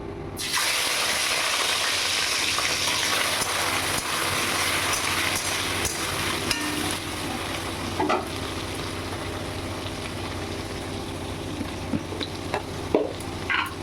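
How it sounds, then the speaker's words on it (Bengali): Prawns frying in hot oil in a wok, a steady close, loud sizzle and crackle throughout with occasional stirring clinks and scrapes, no talking. "কড়াতে তেল গরম হয়ে গেছে। আমি প্রথমে চিংড়ি মাছটা ভেজে নেব।"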